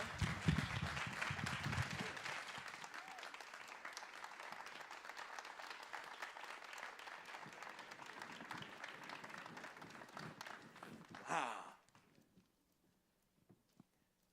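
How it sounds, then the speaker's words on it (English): An audience at a fifth anniversary community celebration applauds, with dense clapping that is loudest at the start, holds steady for about ten seconds, swells briefly and then stops, leaving a few scattered claps. "All right, another round of applause."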